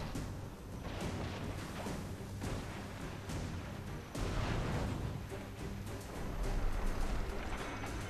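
Artillery barrage in Guild Wars 2: rumbling booms and bursts of heavy fire over a dense, noisy battle backdrop, several louder thuds spread through a continuous roar.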